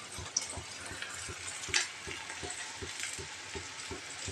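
Ginger paste fries in hot oil with a steady close sizzle, while soft rhythmic taps of a stirring spoon repeat about twice a second, with a couple of sharper clinks.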